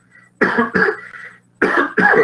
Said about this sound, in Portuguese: É só uma tosse normal